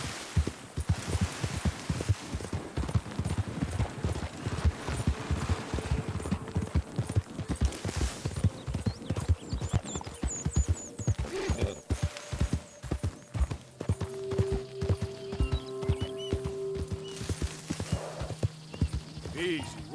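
Horse hooves clip-clop in a rhythmic, steady gait in the video game Red Dead Redemption 2, close and prominent, with brief tonal game sounds and a speaking voice over parts of it.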